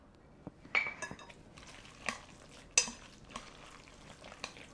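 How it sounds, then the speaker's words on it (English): A dough whisk stirs a meatloaf mixture with ketchup in a bowl, producing soft, quiet scraping with a few sharp clinks against the bowl. "Just going to stir it around."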